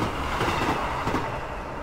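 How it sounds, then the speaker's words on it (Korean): A train in a horror video game rumbles past, a loud, dense roar with a faint rhythmic rattle that fills the short moment evenly, without speech. "열차에 치여 죽었네."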